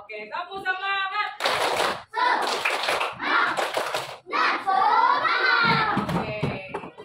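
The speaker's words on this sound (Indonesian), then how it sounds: "Kita pakai tepuk dulu yuk. Tepuk 1, tepuk 2, tepuk 3." A primary school class of children does a rhythmic clapping chant, their voices chanting loudly while bursts of hand claps come in quick groups, close and lively.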